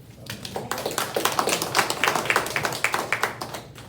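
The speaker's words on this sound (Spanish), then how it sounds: "Denle un aplauso al Señor." Church congregation clapping during a Bible study, many distinct hand claps at close range in a quick, loosely rhythmic patter that builds and stays steady, with no one talking over it.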